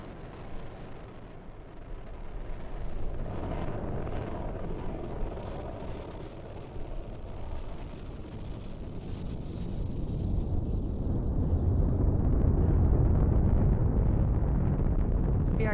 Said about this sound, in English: we are currently firing all 9 of those M1D engines